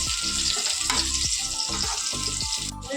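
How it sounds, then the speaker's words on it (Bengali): Potatoes fry in mustard oil with cumin seeds in a kadai, a loud, steady sizzle with repeated scraping stir strokes throughout, close by and without talk. "একটা কড়াইয়ের মধ্যে সর্ষের তেল দিলাম তারপরে জিরে দিলাম তারপরে আলুগুলো দিয়ে এখন ভাজছি"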